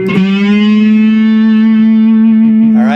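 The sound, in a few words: electric guitar with gritty distortion playing a song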